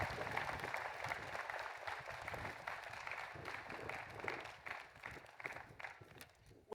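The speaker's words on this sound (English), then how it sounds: "Let's give them a round of applause." University commencement audience applauding the faculty, a distant, faint wash of crowd clapping in a large hall, continuous and diffuse before thinning out at the end.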